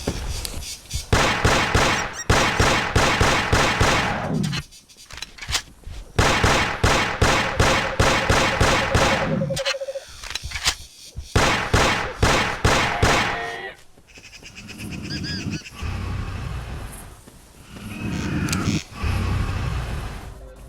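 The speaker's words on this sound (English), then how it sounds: "The first option is a sidearm pistol, designed and animated by Cactus." A sidearm pistol in a Carnivores dinosaur-hunting game mod fires in rapid, loud, closely spaced volleys, the shots pausing briefly between strings and then resuming.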